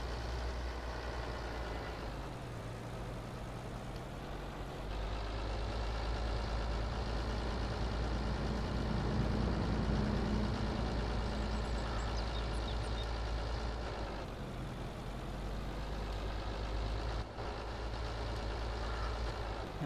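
A tractor pulling a trailer in Farming Simulator 22 produces a steady heavy diesel drone with a deep low hum, swelling slightly midway and holding constant throughout, with no voices.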